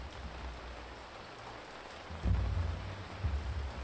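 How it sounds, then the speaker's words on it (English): Rain falls steadily in an ancient city builder farming game, a soft continuous hiss with low rumbling swells like distant thunder rising partway through. "Oh, that rain is so nice."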